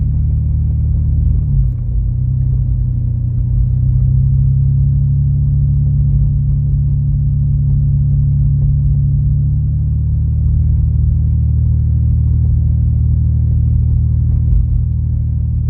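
Car driving along roads around Wausau, Weston and Kronenwetter, Wisconsin, heard from inside as a loud, steady low rumble with a slight shift in engine pitch early on.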